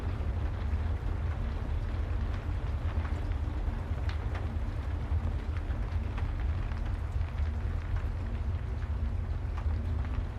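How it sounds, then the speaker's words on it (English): Steady nighttime rain falls outside, a continuous, even hiss with no voices over it throughout. "The rain outside sounds steady tonight."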